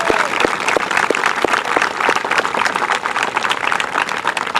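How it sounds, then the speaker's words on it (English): Graduates and guests at a school graduation ceremony give a round of applause, a loud, close, continuous crowd clapping with distinct individual hand claps standing out. "Let's all give a round of applause once again."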